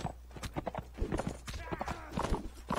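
Horse hooves clip-clop in the video game Bannerlord, a quick uneven run of hoofbeats mixed with game combat noises, with speech over it.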